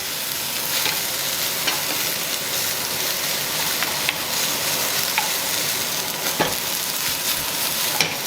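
Baby lady fingers (okra) frying in hot oil give off a loud, continuous sizzle close up, with occasional scrapes and clicks as they are stirred around the pan, and no one speaking.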